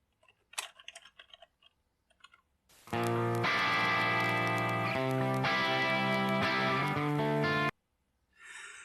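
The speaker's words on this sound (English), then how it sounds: "we can create a vinyl version of this sample by adding our salt and pepper noise to it" Simulated vinyl salt-and-pepper noise added to a music sample: sparse crackles and clicks, then a sustained chord-based musical passage about five seconds long with crackle over it, cutting off abruptly before a brief burst of noise.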